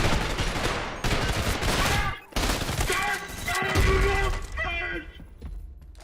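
Fast bursts of gunfire from the Vector in the video game Trepang 2, loud and chaotic, with shattering debris and thuds. A voice talks over the shooting.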